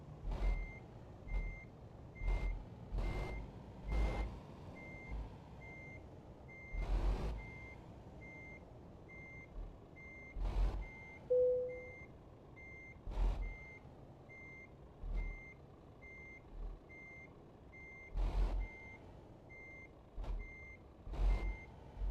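Steady reversing beeps from a heavy truck in the driving game Euro Truck repeat at a regular pace throughout, with occasional louder thumps and engine rumble underneath and no talk.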